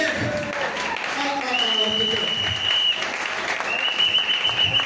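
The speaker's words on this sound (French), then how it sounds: "Acclamons pour Jésus-Christ." A church congregation applauds during a Sunday service, with continuous dense clapping carried over sustained tonal sound, likely singing or organ, running through the whole stretch.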